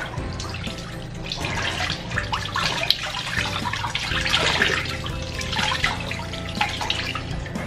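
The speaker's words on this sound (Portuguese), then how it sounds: "Eu acho que eu vou até enxaguar agora na água corrente" Running tap water pouring over hair during a rinse after toning blonde hair with gentian violet, a continuous soft splashing stream with faint drips, fairly quiet and steady.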